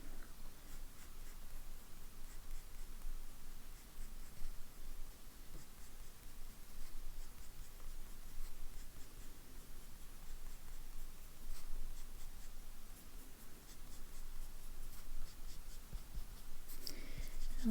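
A broad-nib fountain pen scratches steadily across paper, drawing lines and then squiggles, a soft, continuous close-up rasp with faint rustling and no speech.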